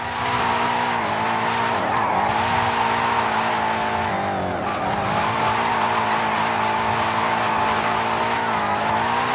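A car drifts in Forza Horizon 5 during a Mexico drift club event, its tires squealing continuously under a steady, loud engine drone for the whole stretch, with no talk.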